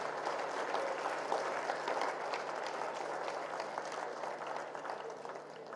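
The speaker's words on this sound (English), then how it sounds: "Can we have a huge round of applause for Dr." An audience claps steadily for Dr. Kiran Bedi at a university talk session, a dense, even wash of applause that holds for several seconds with a faint electrical hum underneath.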